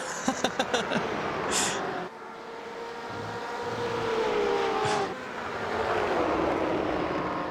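GTE race car in a racing video game at Watkins Glen, engines droning and whining as cars pass with rising and falling pitch, preceded by a few quick sharp clicks, with no talking.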